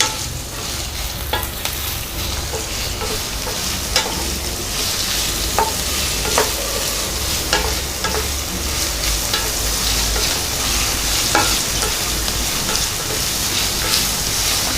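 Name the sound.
onions, green chillies and curry leaves frying in mutton pan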